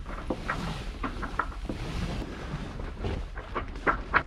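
A sailboat moves under light wind in the Mediterranean, with soft wind buffeting the microphone and scattered gentle creaks and watery knocks, all fairly faint.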